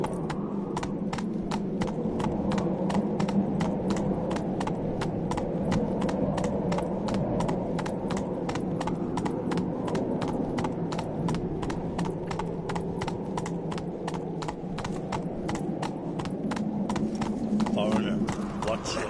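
Roach the horse gallops in The Witcher, a fast, steady clip-clop of hooves running close and loud throughout, with voices talking over it.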